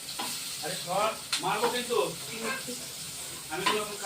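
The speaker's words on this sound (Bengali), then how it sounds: "বেগুনগুলো ভেজে নেবো।" Eggplant slices frying in hot oil give a steady sizzle with clattering and stirring bursts; a voice talks intermittently over it.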